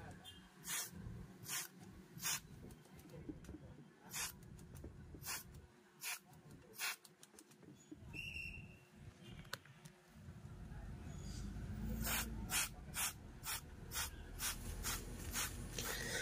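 Short spray bursts of contact cleaner hit an amplifier's slider control, repeated in quick rhythmic puffs, with ratcheting clicks and rubbing as the slider is worked back and forth close by.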